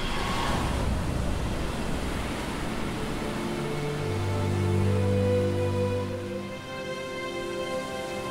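Ocean swells washing against the high cliffs of Dominica: a broad rushing surge that swells in the middle and then eases, with a low rumbling undertone and some wind noise.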